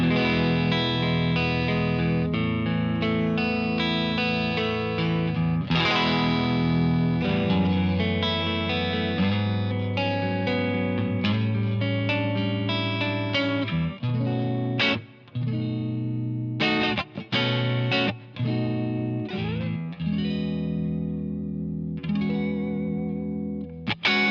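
Clean electric guitar through a Two Notes amp simulator with a Jensen Tornado speaker impulse response and chorus shimmer, chords and single notes ringing out, some strummed stabs and brief pauses, no voices.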